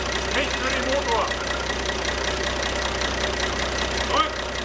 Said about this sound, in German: Ohne Entlüften der Dieselfilter habe ich ihn angekriegt.